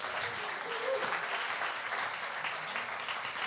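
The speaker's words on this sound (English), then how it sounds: "Can I have a huge round of applause for Sonia Barber, please?" An audience at a live Sunday papers event applauds steadily, a dense, even wash of clapping holding at the same level throughout, with a faint voice or two under it.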